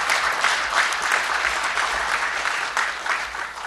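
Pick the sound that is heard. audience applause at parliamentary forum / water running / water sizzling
audience applause at parliamentary forum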